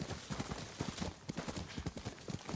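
Horse hooves clip-clop at a brisk, regular trot in the video game Ghost of Tsushima, a fairly quiet, evenly paced series of hoof strikes continuing throughout with no talking.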